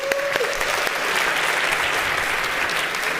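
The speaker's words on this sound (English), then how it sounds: "Let's give him a round of applause." A conference audience breaks into dense, steady applause for a volunteer called up to the stage at a tech talk, a continuous wash of clapping held at even loudness with a brief voice at the start.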